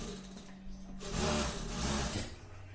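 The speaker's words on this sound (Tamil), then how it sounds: "இந்த பக்கம் இருக்க லைனிங் கிளாத் மேல வந்து தையல் போட்டுக்கலாம்" Sewing machine stitching the lining cloth of a 35-inch blouse, a steady mechanical whir that rises and grows louder midway, then eases off again, heard alone without talk.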